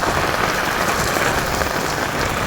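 Dense, steady rain drums on an umbrella overhead, a loud, close, continuous hiss with no talking.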